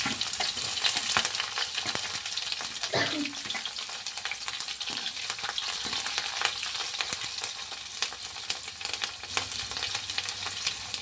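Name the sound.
stirring food sizzling in pan, green chilli added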